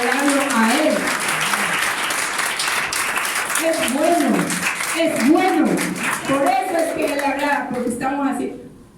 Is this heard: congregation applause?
yes